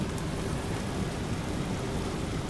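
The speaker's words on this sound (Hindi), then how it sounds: "बारिश आप लोग देखो भाई क्या लगी हुई है" Heavy monsoon rain in the Northeast, heard from aboard an AC superfast train, roars as a dense, steady wash of noise with a low rumble, even and unbroken throughout.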